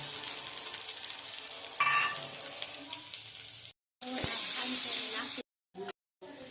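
Garlic sizzles in hot oil while tempering chutney for momos, a loud broadband hiss that stops and starts in abrupt bursts, with a clatter of stirring earlier on.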